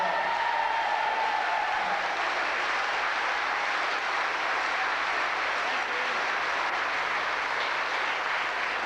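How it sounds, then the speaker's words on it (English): A church audience at Bonhill Church gives sustained applause after a concert, a thick, even roar of clapping that stays loud throughout. "I want to give them a big round of applause"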